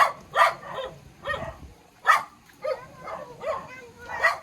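Dogs bark in a string of sharp, separate yaps, some close and loud, others quieter, spread irregularly across a few seconds.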